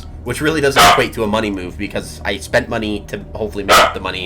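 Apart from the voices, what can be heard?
dog Fenrir barking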